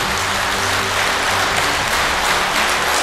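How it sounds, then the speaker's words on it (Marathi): Steady, dense applause from an audience at a World Kidney Day event honouring a kidney donor, loud and continuous throughout with no pauses. "पत्नी ह्या डोनरसाठी अशाच जोरात टाळ्या वाजवा"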